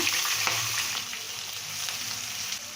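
Chopped onion sautéing in a pan with cumin, asafoetida, curry leaves and green chilli, a continuous bright hiss of frying, close and even, with a few soft stirring scrapes and no voices.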